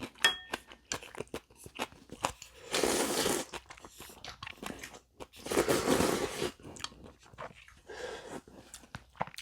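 Someone eats chewy Samyang instant jjamppong noodles, giving close, loud bursts of slurping and wet chewing with short quiet gaps, and no talking.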